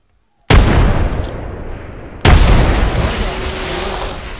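Two frag grenade blasts go off in the Apex Legends video game. Each loud, booming explosion bursts out suddenly, then rumbles away in a long fading tail, the second arriving about two seconds after the first.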